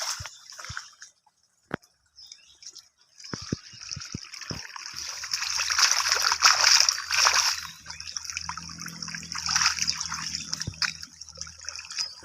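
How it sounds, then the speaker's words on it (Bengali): Water gushing from a motor pump into a jute field, a steady rushing splash that swells in the middle, with scattered clicks and knocks at the start. "দেখেন মোটরে কিরম পানি বাড়াইতেছি"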